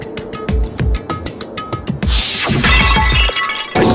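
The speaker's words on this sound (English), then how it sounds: "I grabbed the Monokuma bottle from the shelf and smashed it across her head" A glass Monokuma bottle smashes over a head in the Danganronpa video game, with a loud bright shatter and scattered tinkling debris following a series of sharp impacts, close and dominant.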